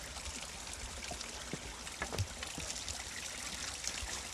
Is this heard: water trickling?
yes